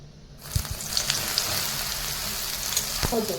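Soya chunks go into a hot pan for soya pulao, and a burst of sizzling rises after a brief quiet start, then continues as a dense, close frying hiss with a few stirring knocks.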